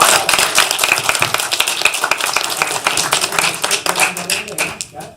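A live audience gives a round of applause, dense overlapping hand claps at close to moderate distance that keep up steadily for several seconds and then taper off at the end.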